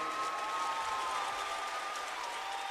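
A crowd's applause and cheering, heard as a dense, continuous patter of clapping at moderate distance with faint whoops, steady throughout the short stretch.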